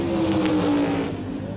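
1970s Pro Stock drag racers including a Plymouth Barracuda at an NHRA event, engines roaring loudly and steadily with a droning tone, a few sharp bursts near the start.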